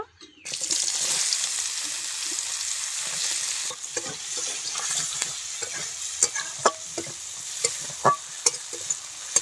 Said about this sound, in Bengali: এই চিংড়ি মাছ ভাজা তেলের মধ্যে পেঁয়াজটা এখন দিয়ে দেব